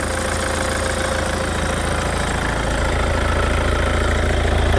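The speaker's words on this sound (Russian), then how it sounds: "Слышим то, что двигатель работает ровно, сторонних шумов мы здесь не слышим." A Hyundai Santa Fe engine idles evenly at close range, a steady low mechanical hum with a faint rhythmic tick, unchanging throughout.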